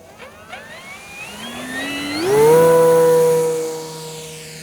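An RC airplane on its stock propeller, powered by a 6-cell 5000 battery, whines as its electric motor spools up to a loud, steady high-pitched tone and then eases off slightly, with no talking.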